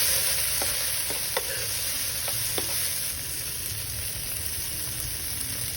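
Onions and soy sauce sizzle steadily in a pan, a constant hiss with a few sharp clicks from stirring, fairly close and with nobody speaking.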